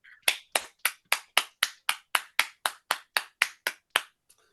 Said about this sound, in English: Big Homebrew Robotics round of applause.